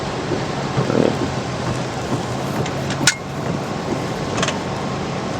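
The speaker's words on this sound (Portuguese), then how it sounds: "mas hoje está chovendo" Steady rain falls outdoors on a street beside a retirement home in Paraguay, a continuous close hiss with a few faint distant knocks and passing sounds.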